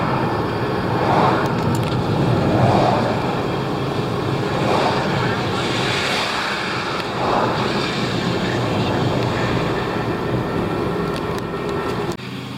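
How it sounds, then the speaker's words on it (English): A neighbour's lawnmower runs steadily in the background, a continuous mid-distance engine drone with slight surges, under occasional talk. "sorry about the lawnmower noise in the background"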